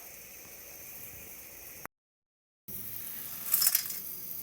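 Dry broken macaroni pieces tumble into a cooking pot with a short, bright rattling clatter that follows a silent pause, over a faint steady hiss.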